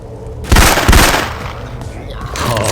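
Bursts of gunfire from Left 4 Dead 2 modded with Syphon Filter weapon sounds: two loud, punchy blasts close together in the first second, then lower sustained game noise and faint background voices.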